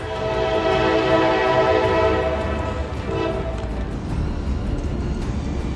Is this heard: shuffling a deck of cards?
no